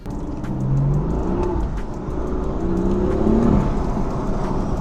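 A BMW M4 engine revs and whirs up and down repeatedly, loud and close, with a throaty rising pitch on each push of the throttle.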